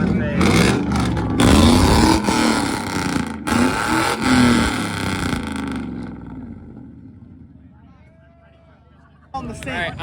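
Someone's truck revving hard at a car meet two-step launch, loud engine bursts and crackling pops over the first six seconds, then fading into quieter ambience before a sharp final burst, with people talking over it.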